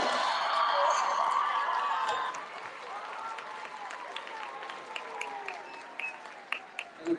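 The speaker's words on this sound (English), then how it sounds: "Please give these kids a round of applause." Audience applause for students at the Sullivan Middle School awards celebration, a dense burst of clapping over the first two seconds that thins and fades as a voice begins talking over the dwindling claps.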